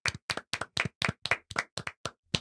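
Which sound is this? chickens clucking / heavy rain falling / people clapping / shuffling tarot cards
people clapping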